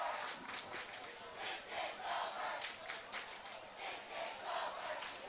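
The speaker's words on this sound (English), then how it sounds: "Did you hear the cheer?" High school football fans from Buchanan cheering in a stadium, a sustained distant crowd roar with rising and falling swells across the whole stretch, no clear speech on top.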